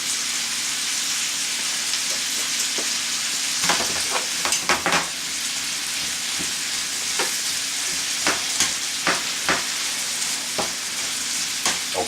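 A side dish fries on the fire with a steady bright sizzle, broken by scattered clicks and crackles as it cooks.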